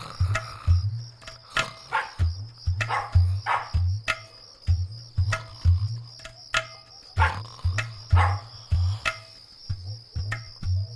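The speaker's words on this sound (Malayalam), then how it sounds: "പട്ടി വല്ലാണ്ട് കുരയ്ക്കുന്നു" A dog barks repeatedly at night in a home drama setting, a steady series of sharp nearby barks under a constant shrill chorus of crickets.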